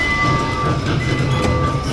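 Rumbling ride on the Pearl Express, a small train at Icon Park in Orlando, running steadily and fairly loud with a continuous low rumble and faint clatter, crowd noise in the background.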